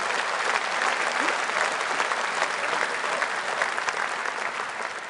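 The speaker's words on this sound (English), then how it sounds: "Got a round of applause." Sustained, dense applause from a large audience at a Nigel Farage political speech in Birmingham, steady and fairly loud across the whole stretch and easing slightly near the end.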